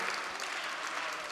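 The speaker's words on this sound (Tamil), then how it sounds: "அதுக்கு பெரிய கைதட்டு உங்கள் மூலமாக தெரிவித்துக் கொள்ளலாம்." An audience at a Mallakhamb championship applauds, a dense, even patter of many hands clapping steadily throughout the short moment.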